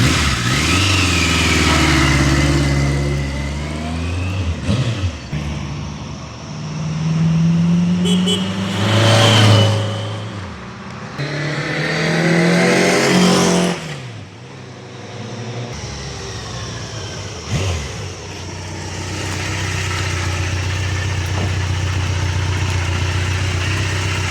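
A 1995 Kawasaki ZG1200 Voyager XII touring motorcycle revs and pulls away, its engine rising and falling through several loud throttle sweeps and gear changes before settling into a steady cruising drone.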